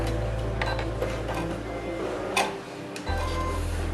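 A sewing machine backstitches along a fabric edge, its motor humming in a fast, even mechanical rattle that briefly pauses then starts again, close and continuous.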